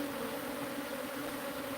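Many bees buzz in a steady, dense drone around a hive left with remnant bees and robber bees, close and continuous with no pauses.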